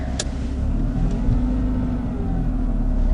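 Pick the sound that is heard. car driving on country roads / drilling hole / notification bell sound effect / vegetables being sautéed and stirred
car driving on country roads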